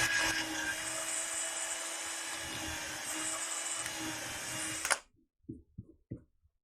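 A power drill with a screwdriver bit drives a screw, giving a steady high-pitched whine for about five seconds before cutting off abruptly, followed by a few faint clicks and knocks.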